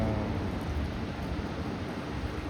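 Heavy rain pouring down outdoors during a fishing outing, a dense, steady hiss of falling drops with no break and no voices.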